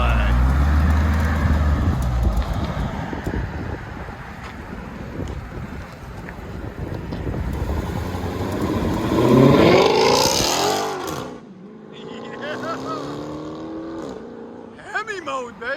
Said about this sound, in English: Hellcat Redeye. True dual straight pipe.